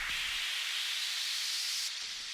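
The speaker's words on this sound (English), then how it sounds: "Risers, downlifters, white noise." A steady, bright burst of white noise effect in a deep house track made in FL Studio, hissing evenly like static, sustained and fairly loud before dropping slightly near the end.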